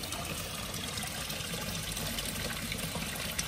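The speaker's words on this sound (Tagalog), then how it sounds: "Ang tubig." Water flows steadily at a hotel in Egypt, a continuous close wash of rushing, trickling liquid with no speech over it.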